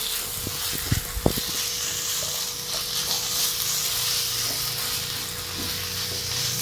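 Prawn roast sizzles in a hot pan while it is stirred, a steady close hiss of frying with a few soft knocks and scrapes of the spoon early on.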